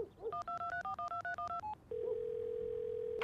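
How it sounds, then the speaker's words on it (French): An iPhone placing a call by voice command plays a quick run of paired dialing tones, eleven short evenly spaced beeps, then a steady dial tone holds to the end, clear and close with no talk. "Siri. Oui. Appelle Suzanne Maison."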